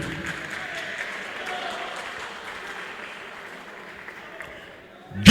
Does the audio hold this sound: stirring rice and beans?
no